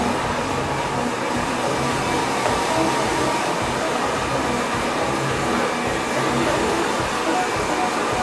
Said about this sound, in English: what I do is that I put a hairnet on top, make it very flat, and then I blow dry.